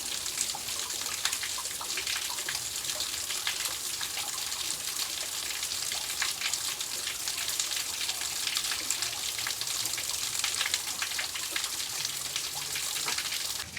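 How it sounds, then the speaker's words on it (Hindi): Waterfall water pours steadily onto a Shiva shrine in the Chitrakoot hills, a continuous close hiss and splash of falling water with no pauses throughout. "भोले बाबा के ऊपर ही पानी झरनों का गिर रहा है"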